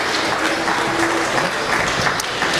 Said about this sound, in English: Give all of these individuals a round of applause for an excellent heifer show.